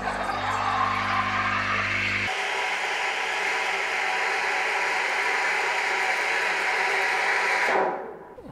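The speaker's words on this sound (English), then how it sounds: "So now that my milk's frothed" Breville Oracle espresso machine steam wand frothing milk, a loud steady hiss that shifts in tone partway through and cuts off near the end.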